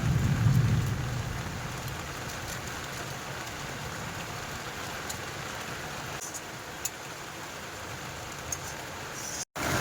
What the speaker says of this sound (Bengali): প্রবল বৃষ্টি আর সাথে কিন্তু বজ্র সহকারে বৃষ্টি হচ্ছে